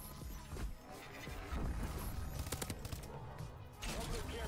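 Gunfire in a Call of Duty match, rapid bursts of shots crackling over busy in-game noise, fairly close and dense, with a commentator's voice intermittently underneath.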